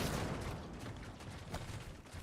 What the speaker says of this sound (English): All right, explosion.